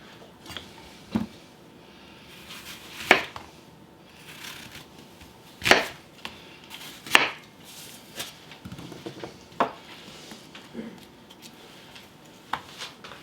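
Knife slicing an apple thin on a cutting board for apple fritters: a series of sharp, separate cuts at irregular intervals, close and fairly loud against a quiet background.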